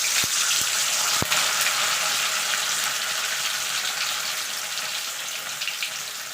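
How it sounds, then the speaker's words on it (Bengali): A whole block of paneer fries in white oil in a wok, a loud, bubbling sizzle that starts with a few sharp knocks and then slowly settles and thins. "এবার পনিরটাকে আমি একটু ভেজে নেব।"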